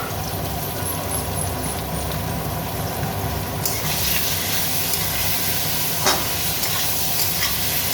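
Coriander, cumin and chili spices fry in a pan for fish, giving a steady, close sizzle with stirring throughout and a brighter burst of hiss partway through; no voices.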